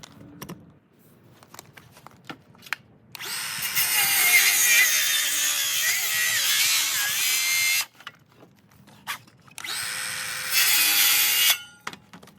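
Power saw cutting through a wooden roof rafter while framing a roof, two loud sustained bursts of rasping cutting noise separated by a short pause, with light handling knocks before and between.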